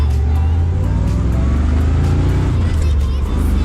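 A 1966 Corvette engine slowing the car as it downshifts, a loud, close, deep rumbling drone whose pitch shifts and settles while running continuously.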